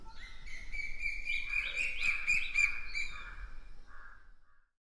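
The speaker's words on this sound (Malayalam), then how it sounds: "മരത്തിനു മുകളിലിരുന്ന മൈന പറന്നുപോയി" A myna bird taking off from a treetop, giving a run of bright chirps and harsh caw-like calls close by, repeated rapidly for about four seconds before cutting to silence.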